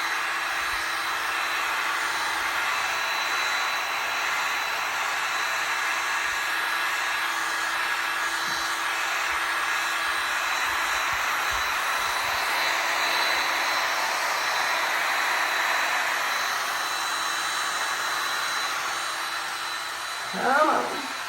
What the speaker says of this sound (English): Let's go ahead and put some heat on this with a little bit of movement to see if we can get this to move.